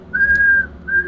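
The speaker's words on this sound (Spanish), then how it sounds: "para mandar a bebé orinar hay que silbar" A person whistles to prompt a baby to urinate, two steady sustained notes close by, the first long and the second short after a brief gap, with no talking.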